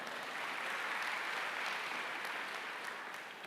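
Steady applause from a church congregation during a worship service, dense clapping sustained at an even level for a few seconds with no voices.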